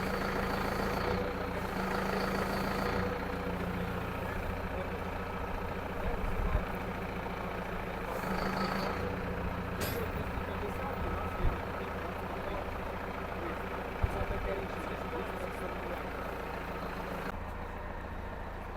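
A tractor engine runs at a steady idle while a Cerera 8 LUX seeder folds up hydraulically, a continuous low drone with a few faint clicks and knocks and no voices.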